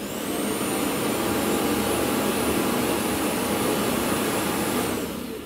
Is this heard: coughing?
no